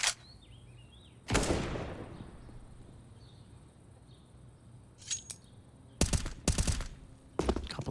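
Gunfire in the Counter-Strike game Inferno map comes in a few separated bursts, one sharp shot early and then clustered taps near the end, fairly faint against a quiet backdrop with some birdlike chirps.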